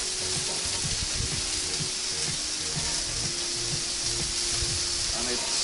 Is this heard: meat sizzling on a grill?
yes